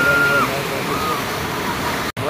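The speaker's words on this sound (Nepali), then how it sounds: "म चाहिँ यहाँ छाउडामा बसेर खोला हेरेर बसिरहेको छु" The Sunkoshi river rushes in a loud, continuous roar, heard up close with no break apart from a brief dropout near the end.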